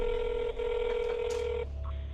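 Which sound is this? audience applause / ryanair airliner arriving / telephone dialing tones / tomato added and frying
telephone dialing tones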